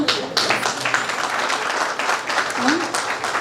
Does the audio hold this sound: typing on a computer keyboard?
no